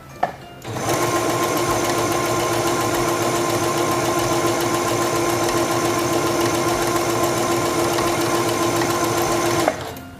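A sewing machine stitching fabric, running at a steady constant speed with a buzzing mechanical whir and tight rhythmic needle clatter, starting abruptly and stopping just as sharply, close and loud with no talking.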